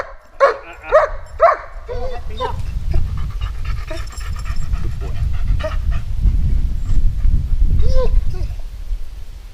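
A security dog during protection training gives several sharp barks near the start, then pants and whimpers steadily close by, with a handler's voice heard intermittently.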